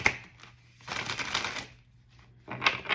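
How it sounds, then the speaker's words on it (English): Tarot cards being shuffled by hand at a reading table, giving two bursts of crisp riffling and slapping, one longer in the middle and a shorter one at the end, close and fairly quiet with no talk. "One more shuffle, y'all, and then we're gonna see what hit the table."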